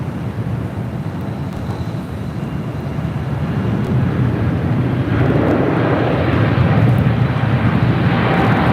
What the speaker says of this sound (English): Korean Air Cargo, the 777 freighter now rolling down at 25 right